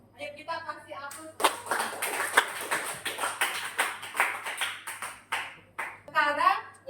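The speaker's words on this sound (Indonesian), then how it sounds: "Ayo kita kasih aplaus." A small group at a teacher performance assessment in Denpasar claps for several seconds, loud and close. Speech is heard briefly before and after the clapping.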